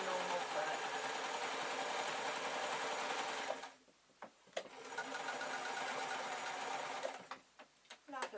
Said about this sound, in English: carry on sewing, because I don't want the machine to push the fabric from underneath